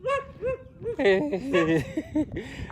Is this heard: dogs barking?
yes